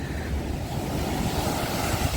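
Stormy sea waves pound the shore at Arcadia in Odesa, a continuous heavy roar of churning surf with deep rumbling and wind buffeting the microphone, loud and close with no voices.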